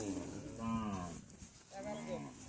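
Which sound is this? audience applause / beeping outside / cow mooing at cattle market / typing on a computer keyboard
cow mooing at cattle market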